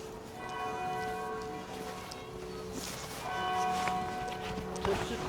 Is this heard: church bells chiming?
yes